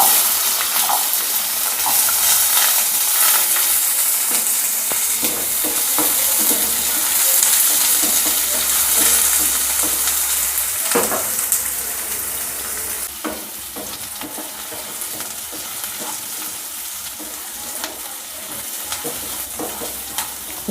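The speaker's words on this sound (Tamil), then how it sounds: "இப்போ நம்ம சின்ன வெங்காயத்தை போட்டுடலாம்." Garlic and small shallots fry in a pan for poricha kulambu, giving a loud, continuous sizzling hiss with stirring clatter and scraping near the microphone, without speech.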